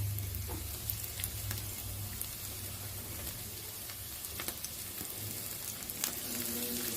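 Onion, garlic and a large hot chili pepper fry in a pan for rice kofta, giving a steady, close sizzle with scattered crackles and light stirring scrapes throughout.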